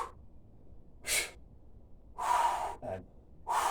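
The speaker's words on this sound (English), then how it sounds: "Recovery exhale." A person doing a kettlebell workout lets out sharp, breathy recovery exhales, a few forceful puffs of air with short pauses between them, close to the mic in a quiet room.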